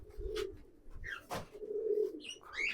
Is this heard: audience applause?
no